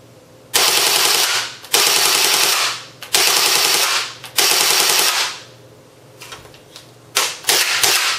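An A&K JLS CA33/HK33 electric airsoft rifle on an 8.4-volt stick battery fires full-auto bursts, four long rapid rattling strings followed by several shorter bursts, loud and close with short gaps between them.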